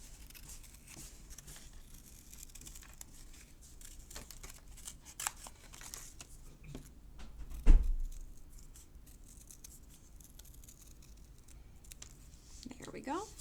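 Scissors snip out paper shapes such as triangles for crayon rubbings, producing faint, close, scattered cuts with an occasional louder rustle of paper.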